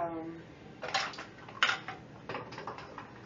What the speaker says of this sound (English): I'm dropping a lot of stuff right now.